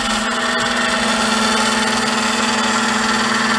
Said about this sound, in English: I can go ahead and start my fuel oil transfer pump.